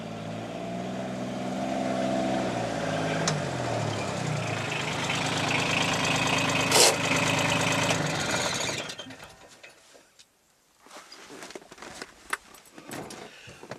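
A Polaris Ranger Crew Diesel utility vehicle runs with a steady diesel drone and a falling engine note early on. The sound holds for most of the stretch, then cuts out abruptly, leaving a few scattered knocks and rustles.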